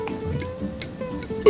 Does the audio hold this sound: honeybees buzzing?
no